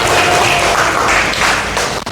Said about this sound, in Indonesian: tepuk tangan